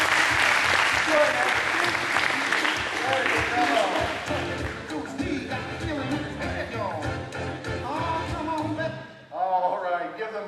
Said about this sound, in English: All right, give them a big round of applause.